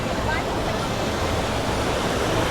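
Steady rushing water from waterfalls and fountains at SeaWorld Orlando, a continuous broadband wash filling the scene at moderate loudness with no clear voices over it.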